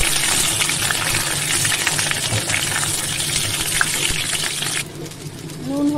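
Food frying in hot oil in a pan, a loud, dense, continuous sizzle close by that drops sharply near the end.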